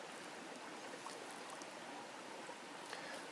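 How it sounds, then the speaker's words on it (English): Stream trickling past a fallen tree in Lane Poole Reserve, a steady soft wash of running water that is faint and continuous, with no voices. "the stream just kind of trickles down that way"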